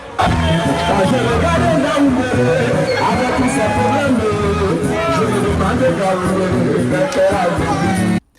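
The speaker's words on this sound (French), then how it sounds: "Cette foule, essentiellement constituée de jeunes" A large, mostly young crowd at an outdoor political rally in Ngaoundéré, Cameroon, fills the air with loud, continuous hubbub and overlapping voices, dense and close throughout before cutting off abruptly.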